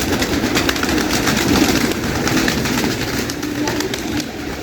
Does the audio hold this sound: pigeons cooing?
yes